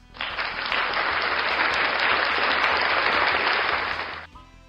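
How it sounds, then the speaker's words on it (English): A round of applause from an audience welcoming a returning guest on a show: dense, even clapping that swells in quickly, holds steady and loud for about four seconds, then stops abruptly. "let's give Rushmore Show a little round of applause for stopping back by."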